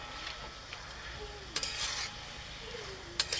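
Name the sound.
stirring bottle gourd curry with fish head in a pan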